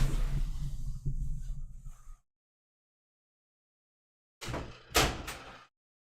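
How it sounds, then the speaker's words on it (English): A door being pushed shut, with a firm double thud of the slam and latch after a brief silence that follows a stretch of room noise, close and fairly loud. "I should close the fucking door."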